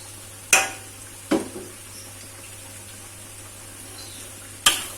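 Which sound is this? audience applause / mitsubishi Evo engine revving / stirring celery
stirring celery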